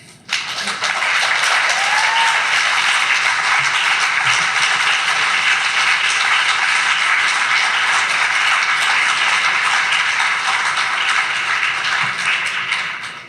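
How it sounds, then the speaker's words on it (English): An audience at a city council at-large candidate forum in Salem claps for over twelve seconds in sustained, dense applause, loud and steady before tapering at the very end. "now you can applaud."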